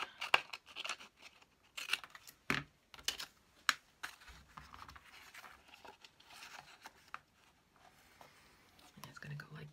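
Scissors snip paper for a vintage junk journal in a string of quiet, uneven cuts and rustles, close by and faint, with soft whispery talk over parts.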